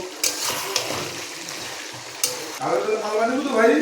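Mutton frying in a kadai is stirred and turned over, giving sizzling hiss with scraping clatters and a louder, bubbling sizzle near the end.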